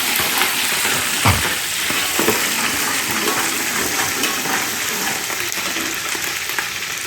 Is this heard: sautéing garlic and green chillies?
yes